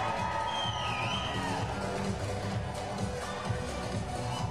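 An indoor bouldering competition crowd yelling and cheering for a climber at Dogpatch Boulders, a sustained noisy roar of voices with whoops and shouts, steady and loud throughout.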